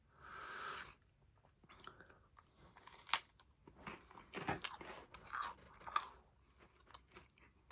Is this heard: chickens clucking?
no